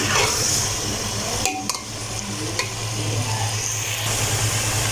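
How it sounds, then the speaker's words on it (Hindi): Taro root (arbi) frying in oil in a pan, a steady close crackling sizzle with a few brief clinks of a utensil against the pan. "सबसे पहले हम अपनी अरबी को फ्राई करते हैं।"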